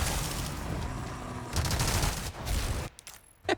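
Machine gun fire in the Resident Evil 4 Remake, a continuous loud rattle of rapid shots lasting nearly three seconds before tapering off into a few scattered thumps.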